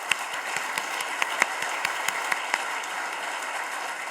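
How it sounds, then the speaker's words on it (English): Alumni at an annual reunion meeting applaud the volunteers, steady moderate clapping with a few sharper individual claps standing out, even and unbroken for several seconds. "Let's give them all a round of applause."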